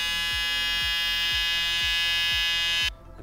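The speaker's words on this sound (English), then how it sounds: "And then corner of the clipper again up around the ear." Electric hair clippers hum steadily and close while trimming hair around the ear, with a repeated low thump roughly every half second before the motor cuts off near the end.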